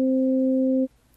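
A Synthstrom Deluge plays a Classic Synths wavetable preset as one loud, steady, pure-sounding sustained note that stops abruptly after under a second, leaving near silence.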